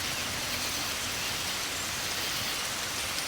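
Heavy, monsoon-like rainstorm pouring down in South Carolina woods, a dense, steady roar of rain with no pauses, loud and close throughout.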